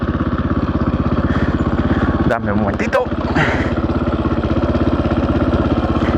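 A Husqvarna FE 450 Rally motorcycle idles close by in a steady, rapid single-cylinder thump that runs throughout, while someone speaks briefly midway over the engine.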